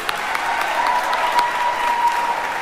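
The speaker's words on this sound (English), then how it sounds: "Can we give one more round of applause for the graduates?" Sustained applause for the Class of 2021 graduates at a graduation ceremony, a dense, even roar of many hands clapping that fills the space from start to finish.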